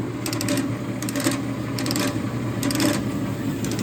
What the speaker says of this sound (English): It's a Wilton horizontal bandsaw. It's got variable speed on the blade.